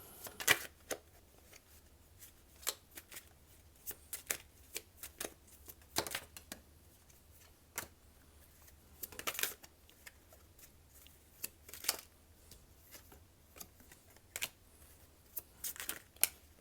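Tarot cards are shuffled and handled close up in a quiet room, giving soft irregular riffles, taps and slaps spread across the stretch.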